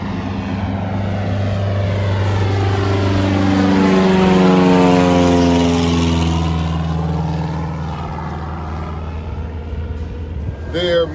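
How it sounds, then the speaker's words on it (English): Small propeller planes take off from a runway inside a shoreline tree line in Reedville, Virginia, a loud droning engine roar that rises and passes with a clear Doppler pitch drop, heard from a nearby boat. "6 small planes took off from a runway just inside the tree line on shore"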